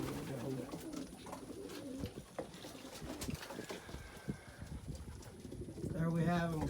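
Pigeons coo softly inside their loft, low throaty calls repeating throughout amid rustling and someone talking nearby.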